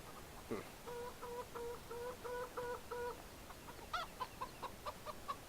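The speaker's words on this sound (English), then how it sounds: "Where's the rooster at?" A rooster clucks in a run of short, evenly spaced calls, followed by quicker, softer clucks and faint pecking sounds. All of it is heard at close range over steady farmyard background noise.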